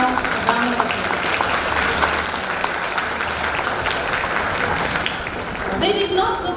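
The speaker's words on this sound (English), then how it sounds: "I think they need a very loud round of applause." Loud round of audience applause for the dedicated staff at a special school's silver jubilee celebration, a dense steady wash of clapping that holds for several seconds and swells again near the end, with voices mixed in.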